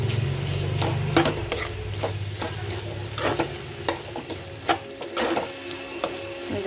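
Garlic and curry leaves sauté in a pan with a soft sizzle, while a spoon stirs with scattered scraping clicks and knocks. The sound is close and moderate, and no one speaks.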